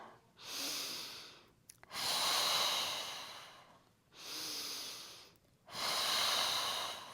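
Deep, slow breaths during a beginner Pilates mat class: two long, airy exhales separated by quieter pauses, each swelling and fading in a steady rhythm, close and clear with no talking.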